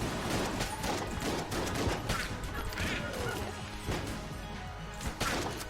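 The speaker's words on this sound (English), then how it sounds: "Can't see where the missiles are landing" Missile blasts and impacts from the bullet-hell game Enter the Gungeon, a dense, continuous barrage of crashing, booming explosions overlapping one another with no pause.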